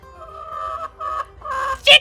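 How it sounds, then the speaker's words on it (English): Chickens cluck close by in short repeated bursts, ending with a louder sharp squawk, with no talking. "Chickens, you always want to be in my video, and I'm just not cool with it."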